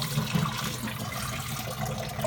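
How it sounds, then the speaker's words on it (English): Water sloshes steadily inside a jar of sprouting seeds filled with lukewarm to cool water and shaken hard, giving a continuous close, rushing churn for about two seconds. "Really shake it up."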